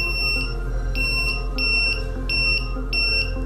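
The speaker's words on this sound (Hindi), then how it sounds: "अब इस प्रोजेक्ट को हमें अपने घर के किसी डोर में लगाना होगा जहाँ पर आप अलार्म लगाना चाहते हैं।" A homemade door security alarm built as a school science project buzzes in a rapid repeating pattern of sharp electronic beeps, loud and close over a low steady hum.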